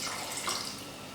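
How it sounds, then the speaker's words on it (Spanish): Four cups of water pour steadily into rice in a cooking pot, a soft continuous rushing splash with no talking. "Adicionamos ahora 4 tazas de agua"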